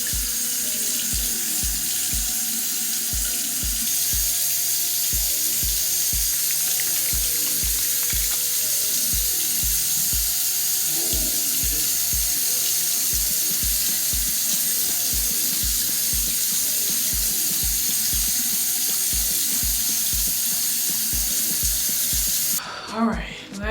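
Running water from a sink tap while a face is washed, a steady hiss with rhythmic splashing and wet hand rubbing, close and continuous, ending in a brief clatter.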